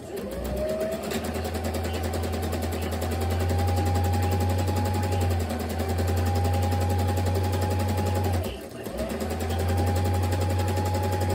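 A sewing machine stitches a graduation stole in long, steady whirring runs, loud and close. It pauses briefly twice before starting up again, with no voices.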